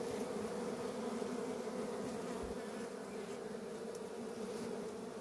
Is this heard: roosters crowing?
no